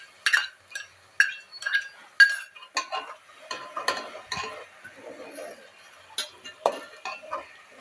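Onions with ginger, garlic and chili paste being stirred in a pan over low heat for pav bhaji, with scattered metal spoon clinks and scrapes against the pan and a soft sizzle underneath.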